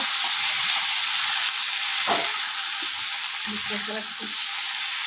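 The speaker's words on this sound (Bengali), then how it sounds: "এখানে কিন্তু আলু, টমেটোটা আর কড়াইশুঁটিটা বেশ কিন্তু সুন্দর করে ভাজা ভাজা হয়ে গেছে" Potatoes, tomato and green peas hiss and sizzle steadily in white oil, with a couple of soft stirring knocks over the bright frying noise and no voices.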